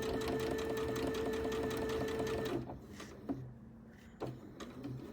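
Sewing machine doing free motion quilting, running in a fast steady whir of stitching for a few seconds, then stopping, leaving quieter handling noises and brief short bursts.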